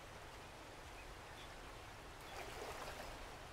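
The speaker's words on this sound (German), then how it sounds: "da ist ja Wasser" A stream of water flows steadily in the 7 Days to Die video game world, a faint, continuous rushing trickle that swells slightly toward the end.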